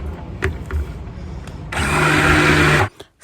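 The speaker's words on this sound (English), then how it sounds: "make sure you tap your blender so you don't have air bubbles" A stick blender churns turmeric cold-process soap batter: a few soft knocks and taps come first, then a loud, steady motor whir runs for about a second before cutting off abruptly.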